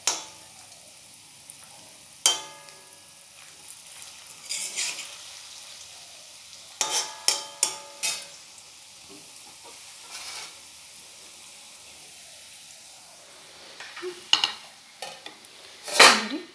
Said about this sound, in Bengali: একটু লাল লাল করে ভেজে নেব। একটা একটা করে সব উল্টে দিচ্ছি।